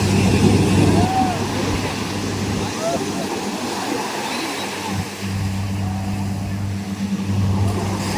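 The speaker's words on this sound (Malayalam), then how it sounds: "സ്പീഡ് ബോട്ട് വരുന്നതാണ്" A speedboat engine drones steadily over the wash of sea waves off Kovalam Beach, Kerala, fairly close and continuous, with faint voices in the background.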